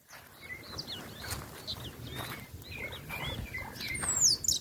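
Several birds call outdoors in a natural setting, thrushes (tordos) among them, giving short repeated chirps and whistles at mid distance over a steady rustling background, with one sharper call up close near the end.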